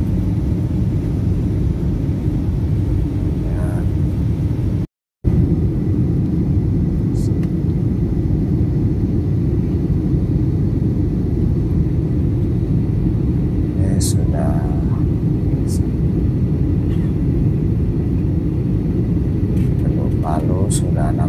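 Inside the cabin of a passenger plane cruising on a domestic Indonesian flight from Makassar to Palu, a steady low engine rumble fills the air, broken by a brief dropout and a few faint clicks and taps.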